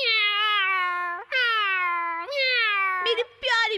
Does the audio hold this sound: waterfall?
no